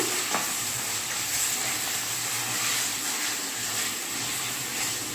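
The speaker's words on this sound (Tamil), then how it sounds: "இப்போ நம்ம வந்து சிக்கன் போட போகிறோம் அதுவும் போட்டு நல்லா மிக்ஸ் பண்ணிக்கோங்க" Chicken pieces are stirred in a hot frying pan for a peppery chicken fry, giving a continuous close sizzle with occasional scraping and clinks of the spoon.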